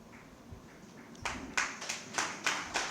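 Audience claps at a book release event in a sequence of about six spaced bursts, moderately near, rising out of a quiet room murmur.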